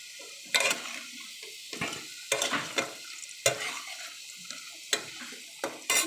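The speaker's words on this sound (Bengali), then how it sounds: "আলু ভাজা হয়ে গেছে" Potatoes frying in oil in a pan for a country chicken curry, with soft sizzling broken by several sharp scraping clatters of a spatula stirring, close and fairly quiet.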